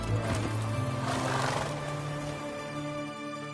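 Roach, Geralt's horse in Witcher 3, whinnies loudly up close while hooves clop, over steady game ambience and no talk.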